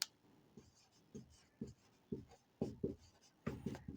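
A line is written by hand with a pen or chalk, heard as close, faint, rhythmic scratchy strokes repeating about twice a second, without talk.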